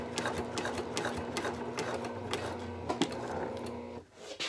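Sewing machine topstitching a handbag exterior at a 3.5 stitch length, a steady rapid mechanical whir and ticking that runs continuously, then pauses briefly near the end.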